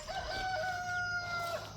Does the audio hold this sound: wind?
no